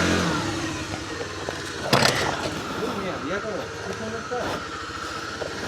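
A car engine rumbles and revs as the vehicle is turned around on a road near a forest, hills and river, with people talking over it and a sharp knock partway through.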